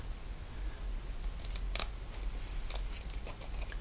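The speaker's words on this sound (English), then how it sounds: "I took my scissors and I cut a really small strip" Scissors snip a small strip of paper for a card project, giving a few crisp, close cuts over a low, steady background hum.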